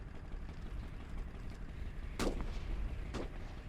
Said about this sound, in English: Mortar can continue to fire.